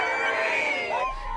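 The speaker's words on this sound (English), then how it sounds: "crowds waiting for a verdict grew, hundreds of people standing by for news" Hundreds of people gathered outside a courthouse awaiting a jury verdict, a dense crowd roar with overlapping voices and shouts, steady and loud throughout.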